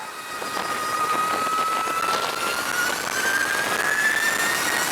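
A 2020 Energica Eva Ribelle electric motorcycle cruises at about 60 mph, giving a steady, close motor whine that slowly rises in pitch over constant rushing wind noise, with no one speaking.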